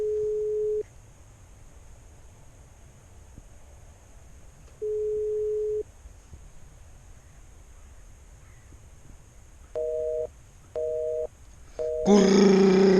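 Telephone busy tone during a phone call: short steady beeps, widely spaced at first, then three quicker pulses, followed by a brief burst of louder noise at the end.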